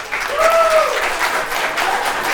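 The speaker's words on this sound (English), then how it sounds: "You can give them a applause for all the girls." A crowd claps and cheers for the contestants of a rockabilly pin-up pageant, loud sustained applause with a brief whistle near the start.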